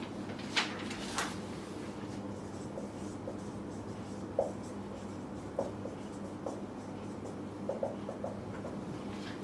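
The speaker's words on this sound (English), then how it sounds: "The answer for this problem I'll write down on the board." Chalk or marker scratches an answer onto a board in a classroom, faint intermittent strokes and taps over a quiet room hum, with no one talking.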